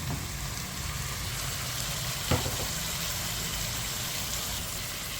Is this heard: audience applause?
no